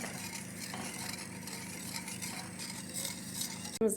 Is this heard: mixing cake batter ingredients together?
yes